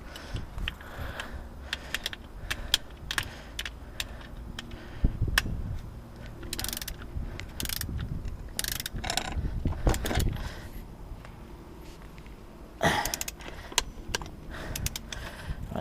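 Mechanical clicking and ratcheting from tools while tightening front suspension bolts on an Audi B6 S4, rapid irregular ticks and bursts in a quiet garage with no talk.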